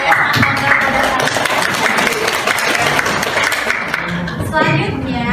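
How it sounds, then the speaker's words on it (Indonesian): A classroom of students applauds together in dense, continuous clapping that holds steady for several seconds, with voices mixed in beneath it. "Saya sangat memberikan tepuk tangan ke kalian."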